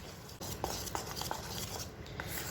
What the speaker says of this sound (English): Now you have to mix this.